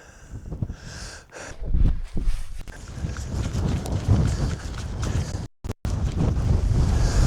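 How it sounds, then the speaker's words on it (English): Cold wind buffets a microphone on a Scottish mountain top, a loud, gusty rumble that surges and drops, with brief rustling and a short cutout near the end, close and without talk. "It's getting a bit cold. It's a cold wind."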